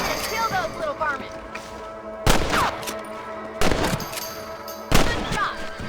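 Gunshots ring out in the Red Dead Redemption video game, four sharp, loud cracks spaced roughly a second or more apart, with a voice and small game sounds between them.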